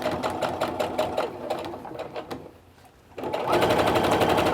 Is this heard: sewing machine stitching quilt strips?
yes